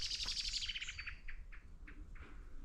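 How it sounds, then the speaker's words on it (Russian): A bird calls nearby with a run of high chirps and tweets, followed by a few shorter separate notes against quiet outdoor background. "Просто большая птичка была."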